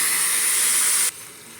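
A tempering with asafoetida hits hot oil in a pan and gives a loud, bright, steady sizzle. It cuts off abruptly after about a second, leaving only a faint hiss, with no talking.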